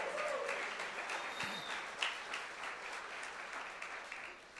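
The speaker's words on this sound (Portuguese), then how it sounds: "dê um aplauso a Jesus" Church congregation applauding during a sermon, a steady wash of many hands clapping that fades slightly over a few seconds, moderately distant and without speech.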